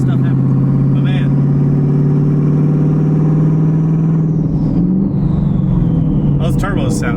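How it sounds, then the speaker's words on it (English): A twin-turbo Mustang engine heard from underneath the car, revving hard and loud with a sustained droning tone that rises, dips and surges again, close and dominant throughout. "those turbos sound damn good down there. They sound really good."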